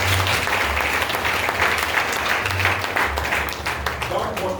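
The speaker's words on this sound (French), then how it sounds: "Acclame Jésus" Loud, sustained applause from a church congregation during a sermon, steady clapping filling the whole stretch with a voice faintly mixed in.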